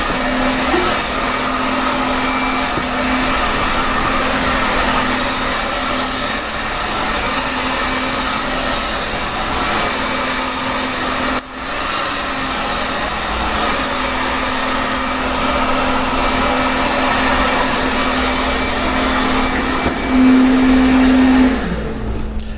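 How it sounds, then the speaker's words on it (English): A hair dryer blow-drying a woman's layered, late-70s style blonde hair, giving off a loud, steady whirring blast that runs unbroken for over twenty seconds with a slight shift near the end, and no voices. "I don't know how thorough of a blow dry I'm going to do because she is skittish."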